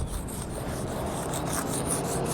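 A pencil rubs and scratches across paper in a quiet spot, a soft continuous rasp with small rhythmic strokes, close and faint with no talking.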